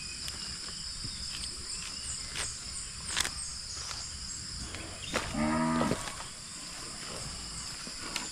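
A cow moos in a rural pasture, one drawn-out low call standing out over a quiet outdoor background of insects and small rustling sounds. No one speaks.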